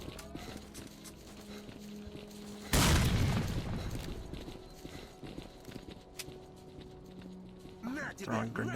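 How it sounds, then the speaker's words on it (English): A grenade blast against zombies in S.T.A.L.K.E.R.: Call of Pripyat booms loudly partway through, then rumbles and fades amid game noise while people talk. "Throwing grenades at zombies."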